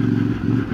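CFMoto 450MT motorcycle ridden off-road, a steady, close, low engine drone with a faint clattering texture, brief and fairly loud.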